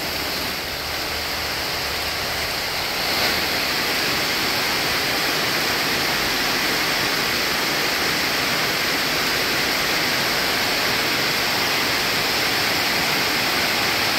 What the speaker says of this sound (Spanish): Mire, está lloviendo bastante.